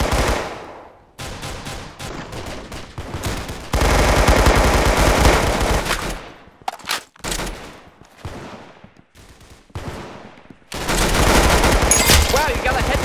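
Loud bursts of automatic and single gunshots from the Roblox shooter Arsenal, played on mobile, firing in several rapid volleys with short gaps between them and no voices over the shooting.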